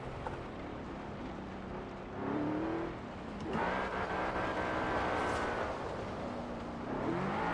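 BMW M5 in Forza Horizon 4 revving and drifting on a mountain drift road, steady engine drone with rising rev sweeps and bursts of throttle, continuous and fairly loud throughout.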